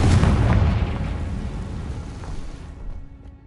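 A Confringo fire spell bursts in the Hogwarts Legacy video game as a single heavy boom at the start, followed by a rumbling, crackling decay that fades out over about three seconds.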